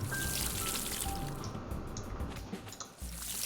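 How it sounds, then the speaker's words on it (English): Seedlings being watered in the farming game Pumpkin Days: a steady, wet splashing and dripping runs for a few seconds at a constant level, with no talking. "I like how you've got to really water the seedlings"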